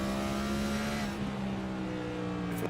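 A race car engine drops in pitch as it comes down through fourth gear toward 6,000 rpm, droning steadily and fairly distant before powering back up.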